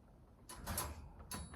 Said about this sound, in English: Closing the door, latching the door.